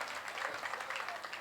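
An audience at a Hindi poetry recital claps steadily and densely throughout, a continuous wash of applause at moderate distance.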